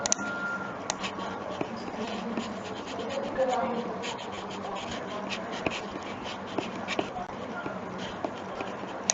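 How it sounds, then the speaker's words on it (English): Chalk or an eraser scraping across a board in a lecture room, steady scratchy rubbing with small clicks throughout, fairly close, with no one speaking over it. "I will just erase some of the things"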